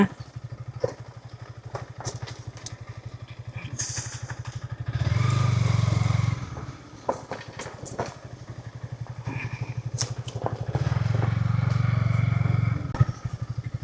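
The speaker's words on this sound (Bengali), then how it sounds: "এই রাস্তা দিয়ে বাইক চালিয়ে যাচ্ছে" A motorbike rides along a rural road near the Garo hills at Dawdhara in Sherpur, its engine thrumming steadily nearby. It swells into two louder, sustained revving stretches, with clattering bumps and some talk in the background.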